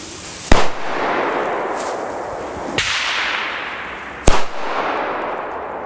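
Three sharp Funke A-Böller firecracker bangs go off a second or two apart, loud and close. Each is followed by a brief rushing echo that fades.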